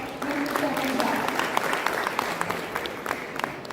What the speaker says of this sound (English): A big round of applause for Sir, Mr. Shaman Jha.